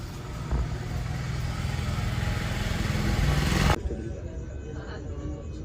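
Motorcycle on a long Mumbai to Gokarna highway ride in Karnataka, a steady loud engine drone and wind rush that builds, then drops sharply to a quieter idle-like hum.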